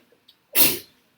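A single sharp sneeze in a classroom, loud and close, bursting out alone in an otherwise quiet moment and trailing off within half a second.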